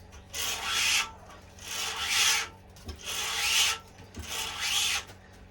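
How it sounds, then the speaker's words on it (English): Repeated raspy rubbing strokes, about five pulls of abrasive tennis string drawn through the grommets of a Prince Beast racket, each lasting roughly a second, close and steady with brief pauses between. "this string is quite an abrasive string, so you can probably hear it pulling through"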